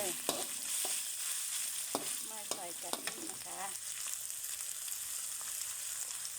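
Chicken curry with banana stem is stir-fried in a pan without coconut milk, giving a steady, fairly soft sizzle with regular spatula scrapes and taps throughout.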